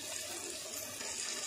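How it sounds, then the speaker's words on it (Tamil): Tap water runs steadily into a blender jar as it is rinsed at a kitchen sink while a kuruma curry is made, a continuous close hiss and splash without talk. "இப்போ இந்த ஜாரை கழுவி தண்ணி வந்து அதில் சேர்த்துக்குவோம்."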